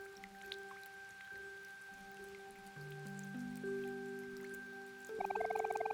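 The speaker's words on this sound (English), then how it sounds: "Here in Raintown, it's always seemed to be raining a bit." Rain falling in Raintown in the OMORI video game: soft, scattered dripping and patter layered under steady sustained music tones, with a brighter shimmering burst near the end; no talking.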